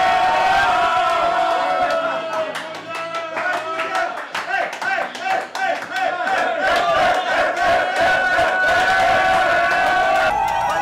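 Fans greeting the Parma basketball team after its cup win, loud crowd cheering, whooping and rhythmic clapping that rise and fall in waves and fill the whole stretch.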